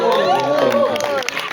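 Crowd applause and cheering for the filmmakers and cast of the film Dalam Sujudku at a press conference, steady and loud, with a voice speaking over it.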